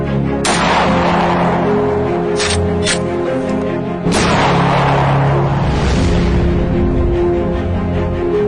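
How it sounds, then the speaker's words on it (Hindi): A homemade gun built to scare crop-damaging animals off farm fields fires two loud, close booming blasts a few seconds apart, each followed by a long rumbling decay, with smaller pops between them. "ये बंदूक है जो जानवर भगाने के लिए अपने खेतों में आके नुकसान करते हैं, उनके लिए बनाया है।"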